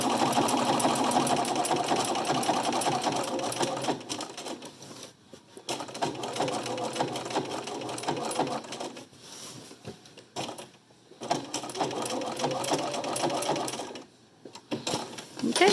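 Sewing machine stitching a Thanksgiving quilt block, free-motion drawing with thread, a fast mechanical whir running in bursts with short pauses between runs.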